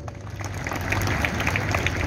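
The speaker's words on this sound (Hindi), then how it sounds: "अब ताली बजा सकते हैं" A lecture audience in Hyderabad breaks into applause, a dense steady patter of many hands clapping that swells slightly and holds for a couple of seconds.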